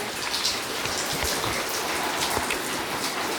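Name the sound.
rain falling at an abandoned house on a volcanic island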